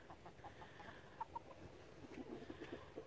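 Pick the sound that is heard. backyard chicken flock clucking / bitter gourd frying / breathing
backyard chicken flock clucking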